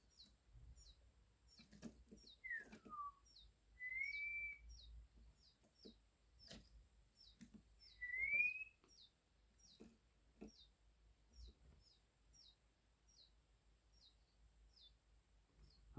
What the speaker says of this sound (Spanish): Aún se le escuchan piar a los pájaros y están dentro de estos cajones.